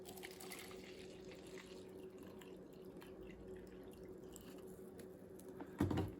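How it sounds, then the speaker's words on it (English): Distilled white vinegar poured from a bottle into an air conditioner condensate drain line, a steady continuous liquid trickle and gurgle at moderate level, ending in a brief louder splash. "let's go ahead and pour this distilled white vinegar"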